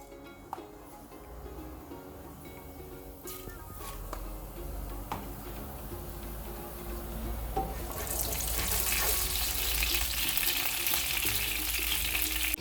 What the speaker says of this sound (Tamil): கடுகு பெருஞ்சீரகம் பொரிஞ்சிட்டது